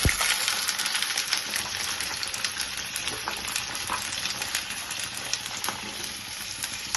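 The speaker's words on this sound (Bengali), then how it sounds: "কচুটাকে ভালো করে ভাজবো, খুব সুন্দর করে ভাজবো" Taro stolons sizzle steadily in hot oil in a pan over a gas flame, a dense continuous crackle with occasional stirring scrapes, close and fairly loud throughout.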